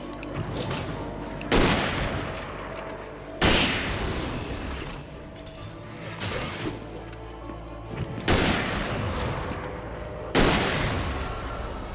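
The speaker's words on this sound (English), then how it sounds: "Rifle is damn nice." Rifle gunfire in Alan Wake Remastered, five or six heavy shots spaced about two seconds apart, each a sharp loud crack with a booming tail over a low game ambience.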